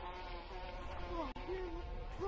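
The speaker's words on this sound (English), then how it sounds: "There's bees coming for somebody!" Steady insect-like buzzing of bees in a video game drones continuously, wavering in pitch as it swoops closer and away, with a brief dropout midway.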